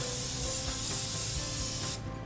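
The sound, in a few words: cooking oil spray onto a grill pan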